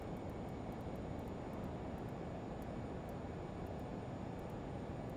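Lear 35 jet in a flight simulator, engines rising slightly in power on approach: a steady, even broadband roar throughout, with faint high ticking above it.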